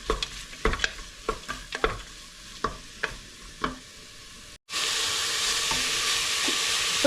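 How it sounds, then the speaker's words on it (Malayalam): Sliced onions sautéing in a pan for beef biryani, with repeated scraping stir strokes over a low sizzle, then a brief gap before a steady, louder frying hiss. "ഇപ്പോൾ സബോള ഒരുവിധം വഴണ്ടി വന്നിട്ടുണ്ട്"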